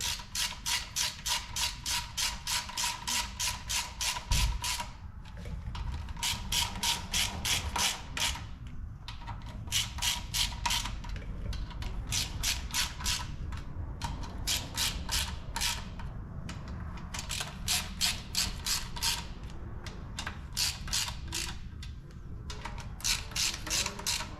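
A ratchet wrench clicks rapidly in repeated bursts, loosening an overtightened bolt on a 1981 Dodge D150's 360 engine during assembly, with short pauses between strokes, close and steady throughout.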